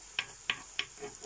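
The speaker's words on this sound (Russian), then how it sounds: "на среднем огне по 5 минут с каждой стороны жарим под крышкой" Chicken meat fritters fry in a pan over medium heat, giving three quick, evenly spaced bursts of crackling sizzle up close, then a softer hissing tail.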